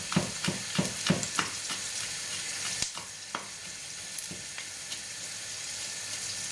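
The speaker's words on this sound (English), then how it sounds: "Now, while the garlic is cooking" Garlic frying in a pan for penne arrabiata, a steady close sizzle with a few sharp clinks of stirring at the start, then continuing on its own.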